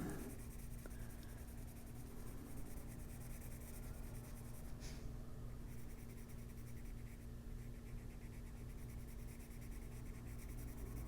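Colored pencil lightly shading paper in an adult coloring book. A soft, steady scratching runs throughout at close range over a faint constant hum.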